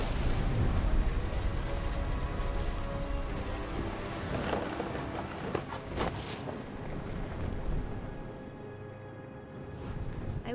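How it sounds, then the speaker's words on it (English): In the video game What Remains of Edith Finch, a storm rolls through: dense, steady rain hisses throughout while deep thunder rumbles swell and recede beneath it, with no voices. "The thunder sounded much too close and full of angry power."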